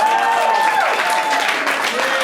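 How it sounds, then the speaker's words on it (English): A full comedy show crowd gives another round of applause for performers, a short burst of close, dense clapping with a voice carrying over it. "Give Cherry and Trinidad another round of applause."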